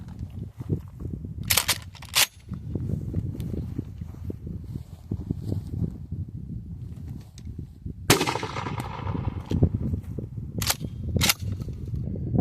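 Remington 1740 prototype double-barrel pump shotgun fired at an airborne target outdoors, a few sharp, distant-sounding cracks over steady wind and rustling background noise.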